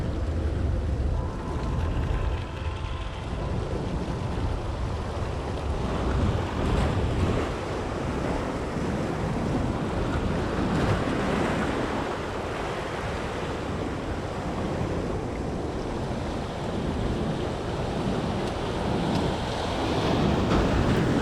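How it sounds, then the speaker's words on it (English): Steady roar of ocean surf breaking on a beach at Far Rockaway, continuous and loud, with wind buffeting the microphone throughout. "Gotta watch those rogue waves."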